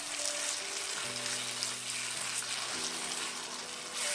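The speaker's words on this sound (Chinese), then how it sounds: "翻炒1分钟左右就可以了" Cabbage and tofu filling being stir-fried in a pan gives a steady, close sizzle with a soft hiss, running continuously throughout without pause.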